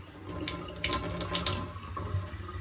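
Water runs steadily from the tap of a Kangen water ionizer, a loud, close, continuous splashing stream with small bright spatters, no speech.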